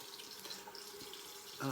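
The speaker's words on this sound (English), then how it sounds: "I'm just going to add some warm water into here." Warm water runs steadily from a tap into a denture soaking cup, a soft continuous trickling splash that stays fairly quiet, with a brief louder clink near the end.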